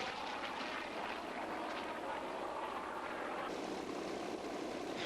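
A Goodyear-built FG-1D Corsair propeller fighter at an airshow gives a steady, distant broadband engine drone that holds through the whole stretch with no clear pass or climax.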